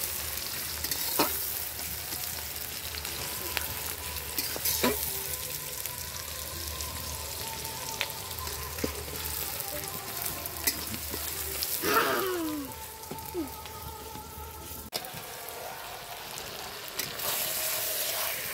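Meat sears in a pan with garam masala, bay leaves, whole dried chillies and chopped onion, giving a continuous crackling sizzle punctuated by scraping and clinking of a stirring spoon.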